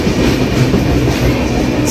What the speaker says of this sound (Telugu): 2వ నెంబర్ ప్లాట్ఫామ్ నుంచి వెళ్ళిపోతుందండి.